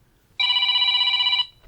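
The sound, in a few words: smartphone ringing from a remote play-sound feature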